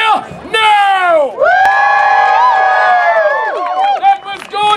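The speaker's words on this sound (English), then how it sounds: "I need you to cheer now" A theatre audience cheers, whoops and hoots loudly together at a Shakespeare play performance of Macbeth, the excited crowd noise rising and falling in continuous bursts.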